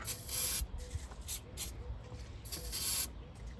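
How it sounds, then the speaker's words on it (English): An aerosol can sprays into the air intake of a 1983 Honda 185S motorcycle engine in short hissing bursts, one long, then two brief, then another long burst, with quiet gaps between. "spray some in there while I open the throttle"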